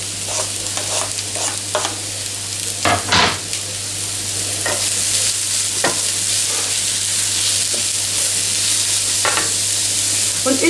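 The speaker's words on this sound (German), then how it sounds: "Und jetzt gebe ich die Möhren und den Knoblauch" Carrots and garlic frying with lightly browned onions in a pan for a bean stew, a steady hiss under several distinct scrapes and clacks of a spoon stirring against the pan, with no voices.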